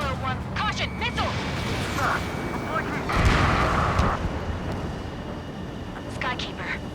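Air combat in Ace Combat 7: Skies Unknown, with a missile blast swelling into a loud, rumbling roar midway and then fading. It sits under steady wind-like jet noise, with short radio chatter and beeps before and after.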